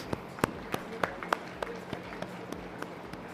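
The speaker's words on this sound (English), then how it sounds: "one round of applause for all the parents" Sparse, scattered claps from an orientation day audience at an engineering college honouring the parents, a dozen distinct hand claps spaced irregularly, fairly faint and echoing in a hall.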